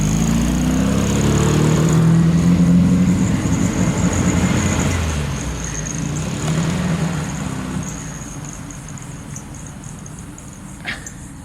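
A 1972 VW Beetle pulls away with its air-cooled engine droning loudly at first, then slowly fading as it moves off, ending in a brief faint clunk.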